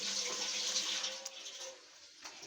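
Water running steadily from a kitchen faucet in a home, a continuous hiss that is loudest at first and then eases slightly, with no talking.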